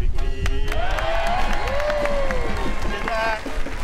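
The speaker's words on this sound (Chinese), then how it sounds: "掌声鼓励鼓励" A studio audience on a Maldives travel show applauds with dense, steady clapping and some cheering through the whole stretch, while a voice talks over it.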